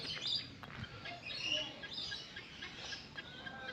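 Birds chirp and tweet in a park aviary at Fundera Park, Yelagiri. The calls are short, overlapping and fairly faint, over a soft outdoor background.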